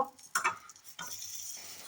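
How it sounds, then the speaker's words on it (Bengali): An egg frying in a pan while being stirred: a few sharp utensil clinks and scrapes up close, then a steady soft sizzle for the rest of the short moment. "এখানে চলছে আমার ডিম ভাজার পর্ব।"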